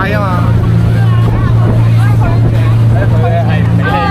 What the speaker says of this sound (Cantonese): 我哋而家坐船去目的地啊！